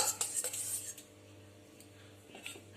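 Ripe mango pieces for homemade mango candy are set one by one onto an oiled metal plate, giving a few light clinks and scrapes close by, then a quieter stretch with small taps near the end.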